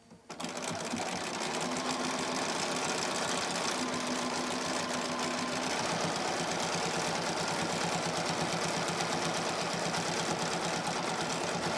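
A sewing machine runs in one continuous, steady stitching burst with a rapid mechanical rattle, loud and close, for about eleven seconds without pause.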